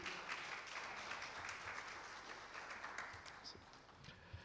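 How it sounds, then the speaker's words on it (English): Audience applause for a panel moderator at an academic panel discussion, a sustained wash of many hands clapping, fairly distant and quiet, tapering slightly near the end. "Please, everyone, a big round of applause for our moderator of the day"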